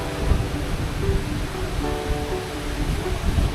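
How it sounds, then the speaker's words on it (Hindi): Broad, steady rush of water from a wide mountain stream with a modest flow, heard on a Himalayan trek crossing, continuous and fairly close with no talking. "There's some stream crossing now."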